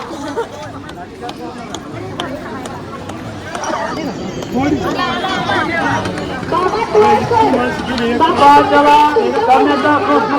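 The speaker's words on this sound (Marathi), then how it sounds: "एवढी गर्दी आहे ना" A huge crowd of pilgrims at the Pandharpur yatra on Ashadhi Ekadashi gives off a dense, continuous murmur of chatter and babble, and many voices build toward the end.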